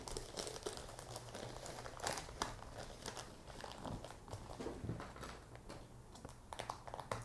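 Strips of plastic bin bag crinkle and rustle close by as a Christmas wreath is made, a quiet run of irregular crackling handling sounds.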